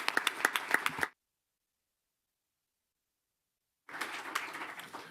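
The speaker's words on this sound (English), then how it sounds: "We can clap now." Attendees at a school board meeting give a short burst of clapping that cuts off abruptly, followed by several seconds of dead silence. Scattered, softer clapping then resumes.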